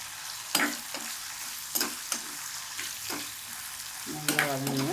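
Pirandai (adamant creeper) sizzles as it is sautéed in a pan, a steady close frying hiss broken by repeated scraping stirs of the spoon.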